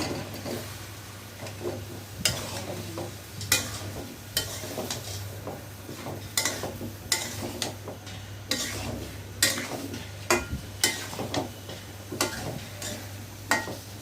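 Taro stems stir-fried with green chillies in a pan for a prawn curry, a soft continuous sizzle under repeated scraping and clanking stirring strokes, no voices.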